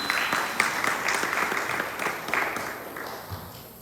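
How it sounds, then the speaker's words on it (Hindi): An audience at a Bhagavat Katha gathering in a Houston temple applauds the organizers, with steady, moderately distant clapping that thins out toward the end. "एक बार इनके लिए ताली बजा दो।"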